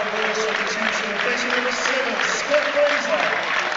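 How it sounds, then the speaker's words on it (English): Football crowd in a stadium applauding a goal in a Burton Albion versus Nottingham Forest match, a steady wash of clapping and crowd noise with a swell near the end, voices mixed in. "he's going to get a warm round of applause"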